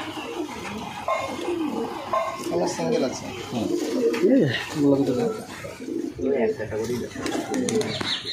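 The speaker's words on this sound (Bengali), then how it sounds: "শুনো পায়রা" Male and female pigeons coo continuously at close range in a breeder's loft, a layered mix of low, rolling coos with faint background voices.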